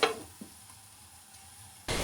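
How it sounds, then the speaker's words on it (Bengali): Mixed vegetables and tomato stirred in a frying pan for noodles, with a quick scraping burst at the start, a quiet low sizzle in between, and a louder surge of sizzling and stirring near the end. "সবজির সাথে টমেটোটা নেড়ে মিশিয়ে দিব।"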